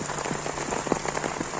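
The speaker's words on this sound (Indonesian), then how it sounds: "hujannya makin deras." Heavy rain pours onto a minimalist hammock shelter outdoors, a dense, constant hiss with close individual drops pattering on the tarp, steady and loud throughout.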